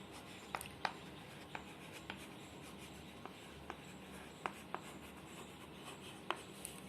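Scattered strokes and taps of writing on a board during an abstract algebra lecture, about a dozen faint, brief scrapes at an uneven pace over a low room hiss, with no talking.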